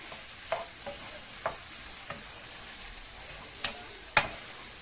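Chicken pieces and saffron milk cap mushrooms sautéing in a pan, with a soft, quiet background sizzle broken by a few sharp clicks and scrapes of a utensil against the pan.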